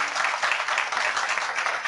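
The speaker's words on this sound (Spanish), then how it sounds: "un fuerte aplauso para ellos" An audience at a memorial festival bursts into steady, dense applause, loud and close, with a continuous wash of many hands clapping and no pauses.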